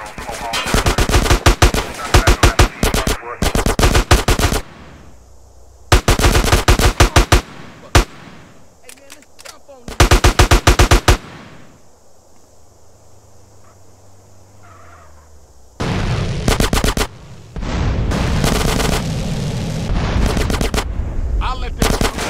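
Bursts of rapid automatic gunfire from the video game GTA San Andreas rattle loudly in several long volleys, separated by quieter stretches with a low engine rumble and a few single shots.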